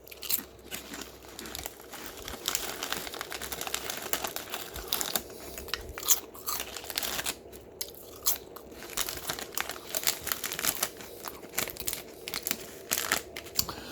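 Spicy, salty, peppery Japanese rice chips being bitten and chewed up close, a continuous run of crisp crunches with crinkling bag rustles, loud and near with no speech.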